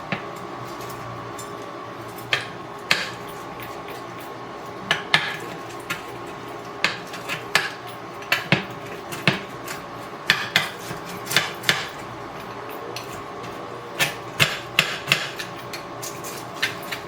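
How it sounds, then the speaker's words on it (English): A sharp pizza cutter rolls through pizza in a Ninja frying pan, giving a string of light, irregular clicks and scrapes against the pan, close up with a faint room hum underneath. "if you're cutting with a pizza cutter that's really sharp in your Ninja frying pan, you got to do it lightly."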